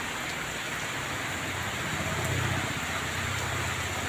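Steady, dense rain hissing continuously, with a low rumble of vehicles passing on a road underneath throughout.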